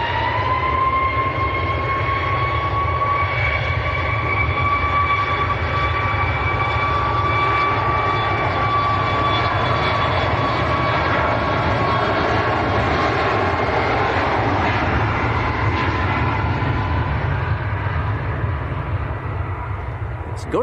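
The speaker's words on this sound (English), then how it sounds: "the 747's coming towards us" Boeing 747 jet engines at Manchester Airport, a steady, loud roar with a whining tone that slowly falls as the aircraft approaches, continuous for the whole stretch beneath a talking voice.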